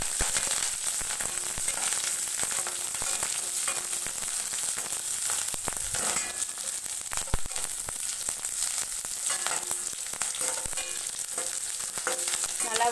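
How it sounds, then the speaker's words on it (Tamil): Curry leaves and chopped green chilies sautéing in hot oil for a snake gourd stir-fry: loud, constant crackling sizzle with frequent spatula scrapes and small pops throughout, close up and without speech. "கருவேப்பிலை, நம்ம கட் பண்ணி வச்சுருக்கிற பச்சை மிளகாய் இதை சேர்த்து நல்லா வதக்கிக்கலாம்."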